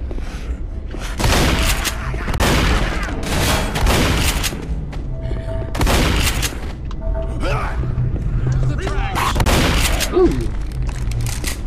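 Repeated gunshots and bursts of automatic fire from the Left 4 Dead zombie shooter game, loud and close, arriving in several heavy clusters with booming thuds between them, mixed with in-game voices.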